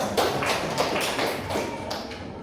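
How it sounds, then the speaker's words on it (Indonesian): A classroom group claps for group 3 after their presentation: dense, even patter of many hands, steady and fairly close, without any talking. "Tepuk tangan untuk kelompok 3"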